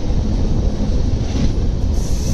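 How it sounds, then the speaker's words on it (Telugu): A Jaipur to Delhi double decker train pulls out of Jaipur Junction, its steady loud rumble and wind roar heard continuously from on board with no talking. "జైపూర్ జంక్షన్ నుంచి అయితే మన ట్రైన్ అయితే బయలుదేరిపోయింది కదా"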